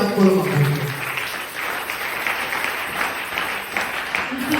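Church congregation at a Sunday service applauding in acclaim, steady dense clapping from many hands with a voice speaking briefly over the start.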